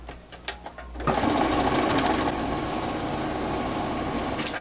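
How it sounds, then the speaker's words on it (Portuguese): Sewing machine stitching a straight seam on a long dress, a few faint clicks first, then a close, steady mechanical whir running continuously until it stops. "No centro das costas eu fechei aqui no overlock e vou passar uma reta."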